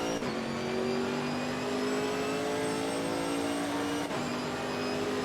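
Chevrolet Camaro GT4.R V8 racing car in Assetto Corsa Competizione, its engine pulling hard through a gear with a steady supercharger whine on top, a brief dip before it climbs again, loud and close.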